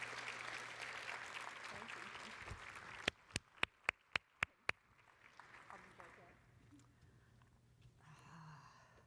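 Audience applause for the NLN chair at a business meeting, a burst of clapping that fades into a quieter stretch with a few sharp isolated claps and faint murmurs.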